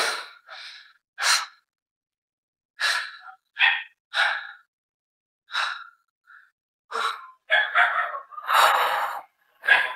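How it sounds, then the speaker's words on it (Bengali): Heavy, ragged panting after an uphill climb to a hidden treehouse spot in the Bandarban hills, with loud, close breaths in irregular bursts separated by short pauses. "উঠতে উঠতে হাঁপিয়ে গেলাম"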